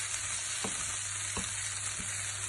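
Chicken and mushrooms sizzle steadily in a pan while a utensil stirs them, with three distinct scraping knocks standing out against the continuous close frying hiss.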